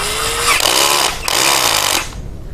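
A cheap cordless drill bought for 278 baht whirs loudly up close during a torque test, revving in two strong bursts before spinning down.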